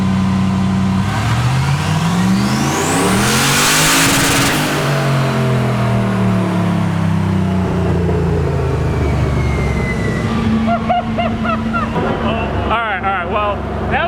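A big-turbo LS6 engine in a Volvo sleeper revs hard on a dyno, climbing and falling in pitch through a long, loud, close pull, with voices talking over the roar near the end.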